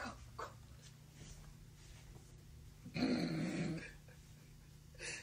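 A dog growls in a short, low burst of about a second, preceded and followed by quieter, indistinct background sounds.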